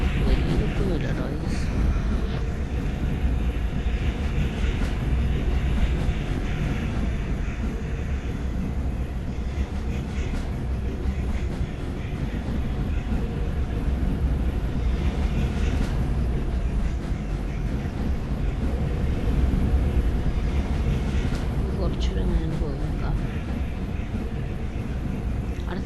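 An Indian train in a train video game rumbles with a continuous low engine drone and rolling noise, steady and moderately loud, with faint voices talking over it.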